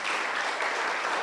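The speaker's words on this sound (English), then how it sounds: "he deserves another round of applause." An audience applauds at a research launch event, producing a brief, dense, steady wash of clapping with no pauses.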